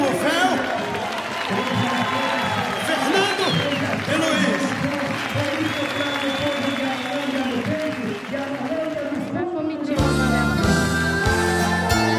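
A crowd applauds steadily at the Romaria de Sant'Anna religious festival in Analândia, the clapping dense and sustained under a speaking voice, before shifting to louder music-like sounds near the end.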